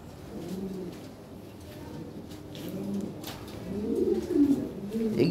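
Big Lahore Siraji pigeons give deep, rolling coos that build and grow louder toward the end, close by, several birds calling over one another.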